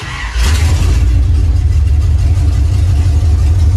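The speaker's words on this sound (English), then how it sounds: "I'll go ahead and fire it up for some open header action." A 1983 Dodge D150 with open headers fires up and settles into a loud, rough, rumbling run, its deep exhaust note steady and close after a brief start at the beginning.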